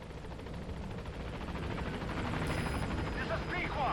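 In the Metal Gear Solid V video game, the Pequod helicopter approaches a landing zone with a steady, continuous rotor drone. Game effects and radio voices sit faintly over the drone.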